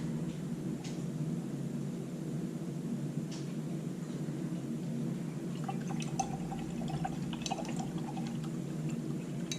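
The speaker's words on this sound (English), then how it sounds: "Rinse your brush out again." A paintbrush rinsed in a water container, soft trickling and dripping with a few light clinks against the container, quiet and close over a low steady background hum, no talk.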